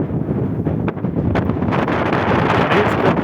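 Loud, strong wind buffeting the microphone in gusty roaring waves on a hilltop above the wide Dniester River, rustling and rumbling throughout with no voices.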